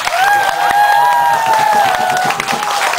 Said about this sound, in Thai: ใครเห็นด้วยขอเสียงปรบมือหน่อยครับ